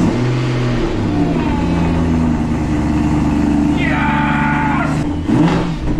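A truck engine turns over on a cold start and settles into a loud, steady, rumbling idle with rising and falling revs, and people talk over it.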